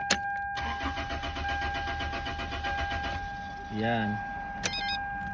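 A car engine cranks repeatedly in a steady starter rhythm but never catches, with a brief whirring burst near the end; a person speaks faintly during it.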